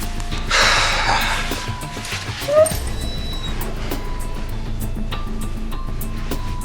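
Agitated dog giving sharp yips, whimpers and snorting breaths close by indoors, a short burst of distressed barking-type calls over background noise.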